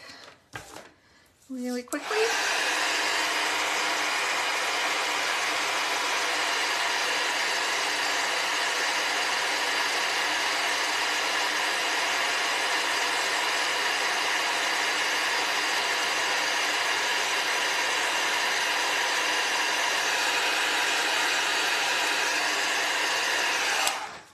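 A heat gun blowing hot air to melt embossing powder on a handmade sympathy card: a brief click, then a steady, loud, breathy whir held for over twenty seconds, with talking faintly beneath it.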